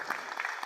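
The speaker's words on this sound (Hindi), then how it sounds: "ऐसे इतिहास पुरुष को एक बार हम लोग जोरदार तालियों से उनका अभिनंदन करते हैं।" A brief burst of audience applause at an open-air theatre event, dense rapid clapping from a crowd heard at moderate distance.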